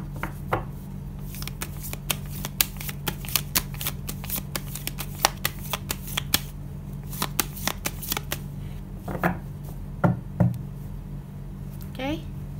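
Small Lenormand cards being shuffled by hand, giving rapid, dense riffling clicks and slaps that run almost continuously, close and crisp, with a brief voice near the end.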